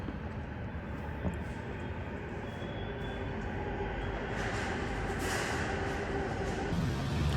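A metro train runs along with a fairly quiet, continuous rumbling hum that swells slightly toward the end, and no voices are heard.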